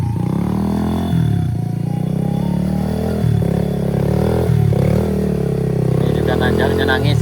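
Motorcycle straining up a steep climb on a rough hill road, its engine labouring with a steady low drone that shifts pitch as the throttle changes, close and loud, with faint clatter.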